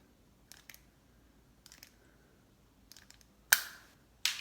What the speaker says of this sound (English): just going to take my trusty utility knife and cut that